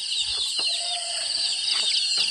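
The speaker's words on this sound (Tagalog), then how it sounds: "At ating mga sisiw." Chickens and chicks on a dry, drought-hit farm, a steady chorus of high, shrill chick peeping with a few short clucks mixed in, close and continuous with no talking.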